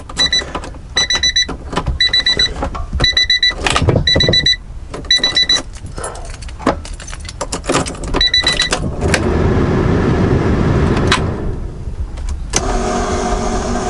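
A Honda H2B engine with its turbo removed cranks in repeated bursts, then catches and settles into a loud, steady idle nearby, running on alone with no talking.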